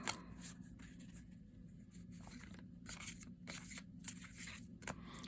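A deck of tarot cards being shuffled by hand close up, with repeated soft riffling and flicking bursts in an irregular rhythm over a quiet room.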